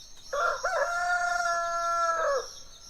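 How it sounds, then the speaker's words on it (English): A single rooster crows clearly, a drawn-out harmonic call lasting about two seconds against a quiet background. "The rooster stepped forward and gently crowed."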